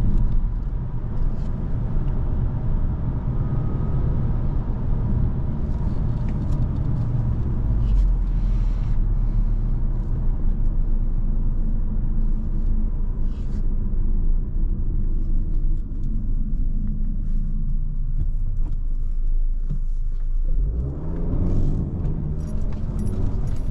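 Steady low road rumble from a 13-year-old heavy Audi A5 convertible cruising on the autobahn, with wind and tyre noise continuous throughout and a brief dip near the end.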